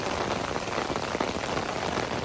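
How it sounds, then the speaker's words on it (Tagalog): Steady rain falls on an outdoor grassy area beside an animal pen under construction, a dense, continuous patter close by with no voices. "Abing ulan."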